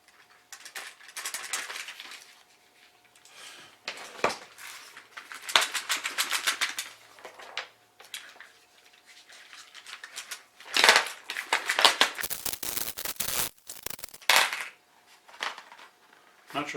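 Glass marbles being worked out of a taped cardboard box: bursts of clinking, rattling and tapping clicks with crinkling, close, separated by quieter gaps.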